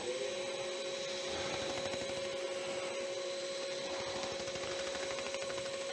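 Wood lathe spinning a turned piece for a pizza cutter kit while it is sanded on a towel-wrapped mandrel, giving a steady whirring hum with a constant tone and a faint rough rasp throughout.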